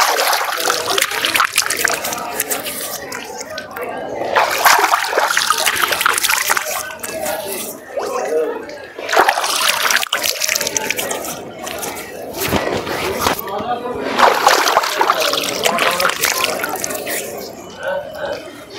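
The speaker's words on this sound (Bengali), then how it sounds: "বাবার দুধ পুকুরে একটু হাত মুখ ধুয়ে নিলাম" Hands and face being washed with water from a temple pond at Tarakeswar temple, with repeated splashing, sloshing and dripping in bursts, close by, with voices talking faintly around.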